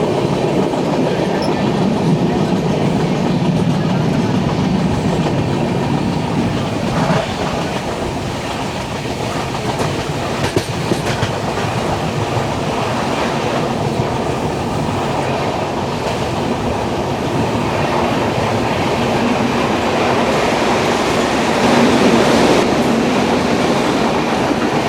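The 12224 Duronto Express runs along the Konkan Railway near the Savitri River, heard from inside an AC 3-tier coach as a loud, continuous rumble with rhythmic clickety-clack of wheels over rail joints throughout.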